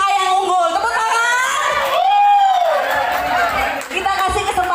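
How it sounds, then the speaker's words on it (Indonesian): A crowd at a community gathering cheers for team A with whoops and excited raised voices, lively and close, carrying on over several seconds amid chatter. "Untuk sementara masih tim A yang unggul. Tepuk tangan."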